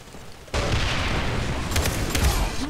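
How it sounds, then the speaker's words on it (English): A bomb goes off in the Far Cry video game, a sudden loud boom that opens into a sustained roaring rumble, with faint crackles through the tail. "We can send a bomb down the lift."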